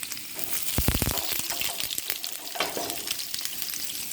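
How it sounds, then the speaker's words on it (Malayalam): Small onions hit hot coconut oil with mustard seeds already popping, setting off a bright, crackling sizzle punctuated by a few sharp stirring knocks, close and steady throughout. "ചെറിയ ഉള്ളി ഇട്ട് കൊടുക്കുന്നുണ്ട്."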